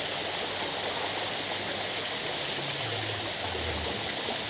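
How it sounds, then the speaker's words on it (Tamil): A garden café waterfall pours steadily, a continuous broadband rush of falling water with a faint low gurgle near the end, heard alone without voices. "எவ்வளோ அருமையாக இருக்குது பாருங்கள் அருவி"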